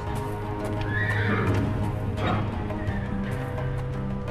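Horses neigh and whinny loudly with hooves clip-clopping in the video game Tunguska 3 Code Archimedes, a nervous stable scene with steady background ambience.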